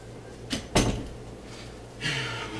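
A door is opened and then shut to let a small chihuahua outside, giving two sharp knocks close to the mic followed by a soft sliding swish against a steady low hum.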